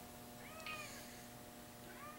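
A cat meows indoors, faint and fairly close, a couple of brief rising calls against a steady electrical hum.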